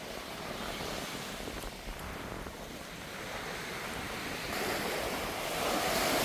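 Surf rolling onto a long beach on Koh Kood island, Thailand: a faint, continuous wash of breaking waves with wind buffeting the microphone, the rush building gently toward the end with no voices.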